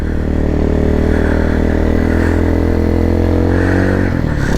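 A dirt bike motorcycle pulls away with a loud, steady engine drone close to the microphone, its pitch shifting slightly near the end as it rolls out.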